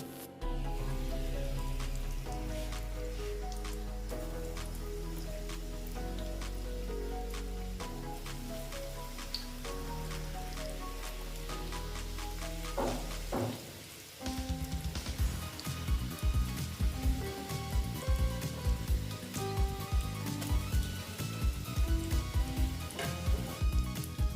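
Remaining egg and potato chops (dim aloor chop) sizzling in hot oil, a steady crackling fry that grows denser and louder partway through, with background music running underneath.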